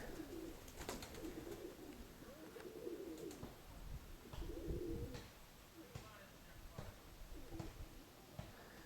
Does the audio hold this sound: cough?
no